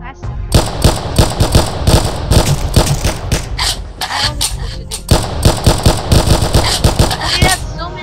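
Rapid, dense bursts of gunfire from a Roblox video game crackle almost nonstop, loud and close, with a brief lull near the middle before the shooting resumes.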